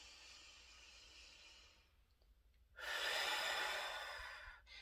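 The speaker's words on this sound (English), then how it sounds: "I'm talking about full yogic breathing" Slow, deep yogic breaths, a long airy exhale fading into a quiet pause, then a loud, full inhale rushing in close to the mic and tapering off at the end.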